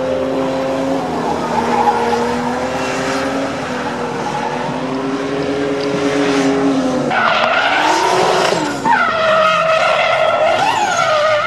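BMW E36 drift car of about 350 horsepower sliding sideways at a French drift championship round at Le Castellet, engine wailing with sustained loud tire squeal and skidding throughout, rising and shifting pitch as it holds angle.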